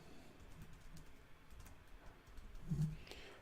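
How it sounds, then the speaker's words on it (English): Someone types a chat message on a computer keyboard, producing soft, irregular key clicks heard close but quiet, with a low coo-like sound near the end. "you can type in a message"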